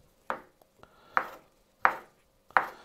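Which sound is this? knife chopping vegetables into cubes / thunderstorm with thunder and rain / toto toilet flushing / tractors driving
knife chopping vegetables into cubes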